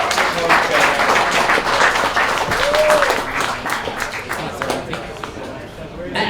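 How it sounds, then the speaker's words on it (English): A crowd at a meetup talk claps for the speaker Frank Newman, loud and dense at first, then gradually thinning and fading toward the end, with some chatter mixed in. "Another round of applause for Frank."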